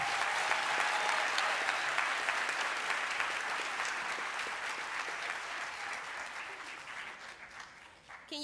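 An audience claps loudly at a class of 2024 high school graduation ceremony, a dense sustained wash of applause that slowly thins and fades toward the end.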